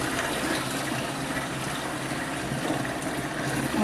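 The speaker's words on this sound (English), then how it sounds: "now what we're going to do is we're going to add some water" Warm water at 105 degrees pouring into a home brew sugar mix, a continuous rushing splash at steady strength, close and alone.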